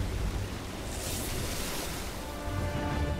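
A fountain in an Imaginators video game mini game, a steady rushing wash of water with a broad hiss that holds at an even, moderate level from start to finish, with no voices.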